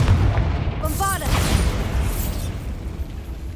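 A Bombarda explosion spell in a video game, heard as a loud booming blast with a rumbling tail that fades over a couple of seconds, with a brief voice sound near the start.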